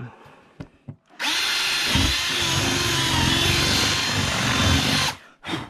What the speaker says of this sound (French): on va envoyer une mèche dedans